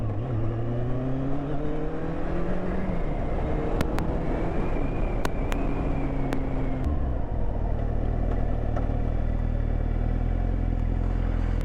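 Motorcycle ridden slowly through traffic congestion on a hot day, a steady loud engine drone from the rider's position with shifting pitch and passing vehicles, continuous throughout with no talk.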